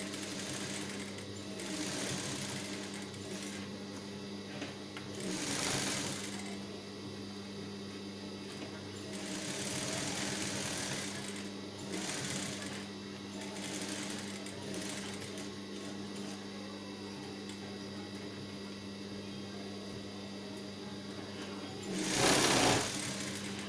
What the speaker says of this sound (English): while attaching the lining we have to stitch it to the edge of the lining